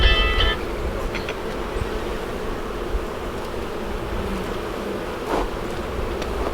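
Steady, dense buzzing of many honey bees in a hive fills the clip at moderate loudness, a continuous hum with no voices.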